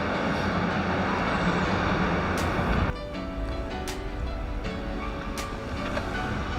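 Train passing nearby, a loud continuous broadband roar that drops off sharply after a few seconds, leaving lighter rumble with a few sharp clicks and clanks.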